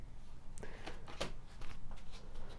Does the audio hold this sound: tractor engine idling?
no